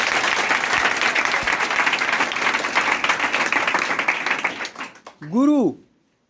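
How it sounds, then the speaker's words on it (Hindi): An audience applauds a teacher at a Hindi-speaking gathering, with dense, sustained clapping for about five seconds before it fades out. A single voice then speaks loudly and alone. "तो उनके लिए एक जबरदस्त ताली आप लोग बजाएंगे"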